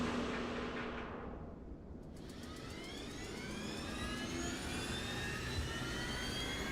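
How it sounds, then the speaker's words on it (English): The auxiliary power unit of an MD-11 jet airliner in a flight simulator, a steady loud turbine whine and roar heard from outside, with a rising high-pitched tone building as it spools up. "let's go ahead and get the APU started"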